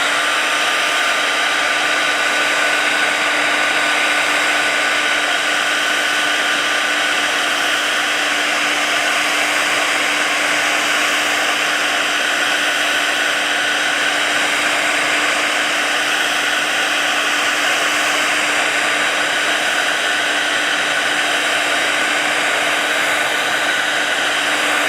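A heat tool blows steadily while drying Distress Oxide watercolor on paper, a loud, even whirring hiss with a constant tone that never pauses.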